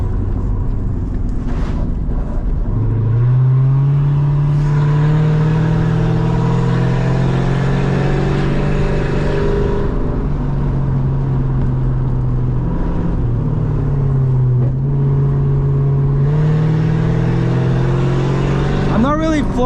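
A Lexus SC400 with a loud aftermarket exhaust revs up while driving through the desert, holding a strong, steady engine drone that rises and falls for nearly twenty seconds as people talk over it inside the car.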